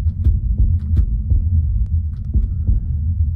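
Heartbeat in the video game In The Midnight Light: deep, muffled thumps over a low humming drone, beating at a steady quick pace, loud and close with no voices.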